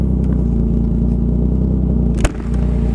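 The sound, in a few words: motorcycle engine passing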